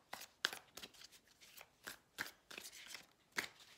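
Tarot cards being shuffled for a reading, heard as a series of quiet, soft riffling snaps and taps with short gaps between them.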